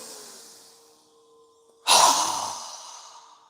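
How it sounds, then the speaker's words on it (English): A single strong exhale through a wide-open mouth during a yoga breathing exercise, a sudden loud rushing breath that fades over about a second and a half, following a quieter drawn-in inhale. "our mouth open wide with a strong exhale"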